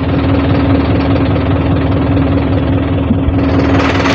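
A tractor engine runs steadily at close range, a loud, even, throbbing idle with a low knocking pulse that continues unbroken.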